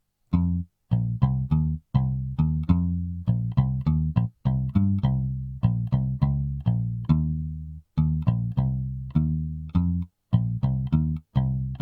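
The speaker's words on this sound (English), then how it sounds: "And after the drums I added a bass from Modo Bass" Modo Bass virtual instrument on its Rick and Bass preset plays a groovy hip hop bass line: punchy, rhythmic picked notes with short gaps and syncopated phrasing, loud and solo.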